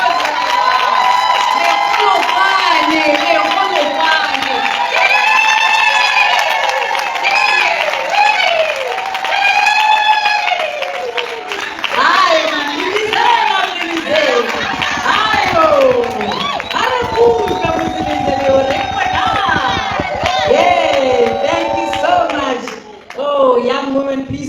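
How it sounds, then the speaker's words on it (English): An audience at a Peace Builders 2022 gathering applauds steadily for about twenty seconds, with loud cheering, whoops and shouting voices layered over the clapping. "Yay, another round of applause."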